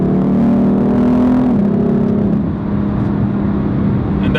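A BMW M4 Competition car accelerates, its engine note climbing steadily and then stepping down as a gear changes, a loud, close, continuous drone with no talking.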